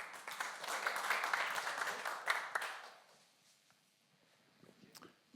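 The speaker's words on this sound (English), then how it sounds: "A little bit of an applause," Applause from a conference crowd welcoming a panel on shared and decentralized sequencing, a broad clatter of clapping for about three seconds that fades out, leaving faint room noise and a few scattered sounds.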